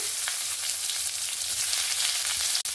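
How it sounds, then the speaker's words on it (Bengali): Bitter gourd and eggplant frying lightly in a little oil in a pan give a steady, even hiss of sizzling throughout, with one brief click just before the end. "উচ্ছে আর বেগুনটাকে হালকা করে একটু ভেজে নেব।"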